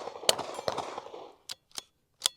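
Several quiet, sharp cracks from a suppressed .22 bolt-action rifle (Savage B22, SilencerCo suppressor) fired at steel targets: one shot under a burst of talk, then isolated snaps separated by silence.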